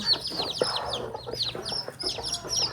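A native hen on a poultry farm clucks low and repeatedly while many chicks peep in quick, high chirps around her. The sound is close and busy, with no talk.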